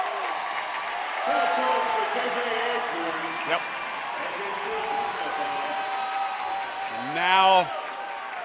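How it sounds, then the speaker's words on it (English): Basketball crowd at a boys' 5A state tournament quarterfinal, cheering for the team in red, a broad steady roar in the arena under a commentator's talk, swelling slightly toward the end. "the crowd here cheering for the team in red, getting louder"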